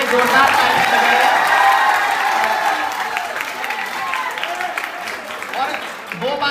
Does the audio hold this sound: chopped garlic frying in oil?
no